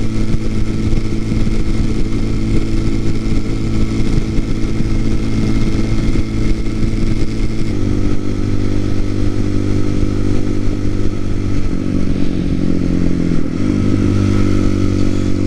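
A TaoTao TBR7 motorcycle with a 17-tooth front sprocket runs steadily on a rural road, its engine droning loud and close with a buzzy hum that shifts pitch as gears and speed change, no talk.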